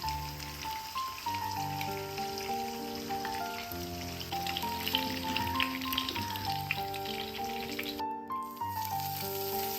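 Chicken sizzles and crackles in hot oil as the pieces are flipped, a steady close frying hiss that plays under soft background music.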